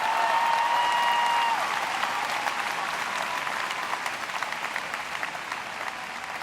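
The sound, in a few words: commencement audience applause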